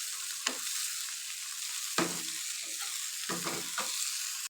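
Beef brain (maghaz) fries in a pan with a steady, bright sizzle, broken by several close scraping strokes of a spoon stirring it through.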